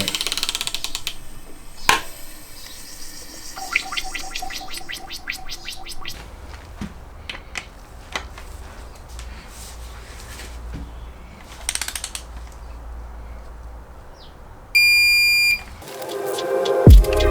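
A hand ratchet turning over a rebuilt BMW S65 V8 engine from an E90 M3, with bursts of quick clicking pawl strokes, pauses, and scattered metallic clanks, close and fairly loud, ending in a shrill beep.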